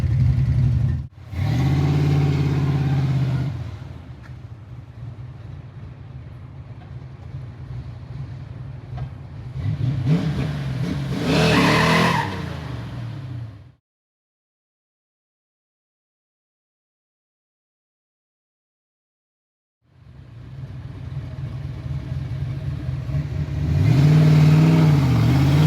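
A Ford Foxbody with a stock bottom end running on nitrous, its engine roaring loudly through a hard pull, fading, then cutting to silence for several seconds before revving strongly again.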